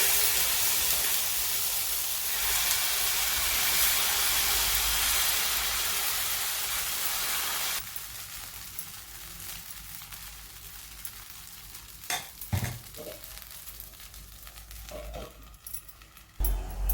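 Sesame seeds frying in a hot pan give a loud continuous hiss for several seconds, then the sizzle drops to a quieter crackle broken by a few sharp clinks and pops.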